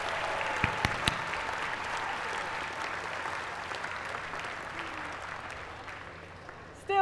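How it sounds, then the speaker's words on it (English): An audience at a dual enrollment recognition ceremony applauds high school scholars, fairly faint and distant sustained clapping across a large room with a few sharper individual claps, lasting about seven seconds. "A round of applause for our Northwood High School scholars."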